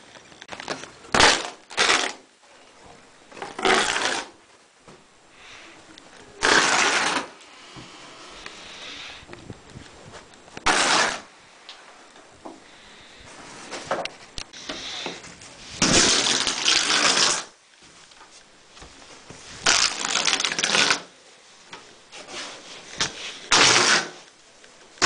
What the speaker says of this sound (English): I'll start up by ripping up this carpet.